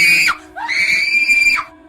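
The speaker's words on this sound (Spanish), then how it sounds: "uno de ellos escuchó un grito desgarrador que provenía del bosque." A long, harrowing scream rings out from a forest at night, a short high cry followed by a sustained wailing shriek that trails off, loud and alone.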